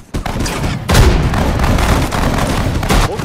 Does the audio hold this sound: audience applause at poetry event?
no